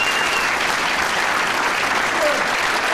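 Audience at a business ethics lectureship event gives dense, sustained applause that stays loud and even throughout.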